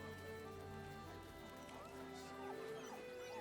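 Scratch, a dog in Baldur's Gate 3, whimpers faintly in soft, high, wavering cries under a steady background drone and game music.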